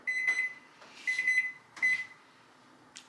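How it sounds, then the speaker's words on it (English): A kitchen timer beeps in three short bursts of rapid electronic pips, each group separated by a pause, close and clear over a quiet room with a faint clatter at the end. "that's the timer for the peanut butter balls"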